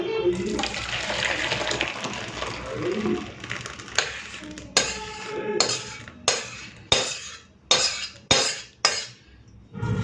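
Cooked biulir dal tempered with garlic is poured and scraped from a pot, a wet sloshing pour followed by a series of sharp metallic clinks of a ladle against the vessel, with a voice faintly in the background.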